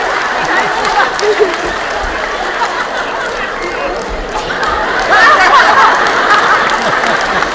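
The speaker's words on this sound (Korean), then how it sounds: "자, 황미호 군의 노래를 박수로 청해 듣겠습니다. 박수!" Crowd applause at an outdoor filial-devotion concert in Hongseong, a steady dense wash of clapping that swells louder in its second half, with chatter and scattered voices mixed in.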